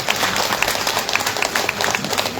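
Women at a village women's group honouring ceremony clap steadily together, a dense continuous patter of many hands with sharp individual claps standing out, no talk over it.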